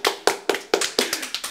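Eight distinct hand claps in a quick, fairly even rhythm, sharp and close, with no talking.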